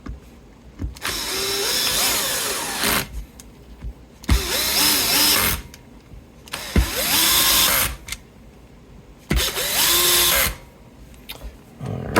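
A power drill driving screws into a vintage Hondo UFO guitar, four separate bursts of whirring motor, each rising and falling in pitch as the screw seats, with short quiet gaps between, loud and close.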